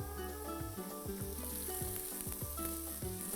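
Bean sprouts and vegetables sizzle steadily in a Lidl multi-cooker pot, a close, continuous frying hiss with a few soft scrapes and thumps of stirring running throughout.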